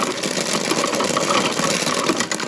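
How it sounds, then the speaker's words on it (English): Hand-turned corn sheller wheel pulling flint corn through, a dense steady rattling grind with continuous scraping texture, close and alone. "And when you turn the wheel, it pulls it through."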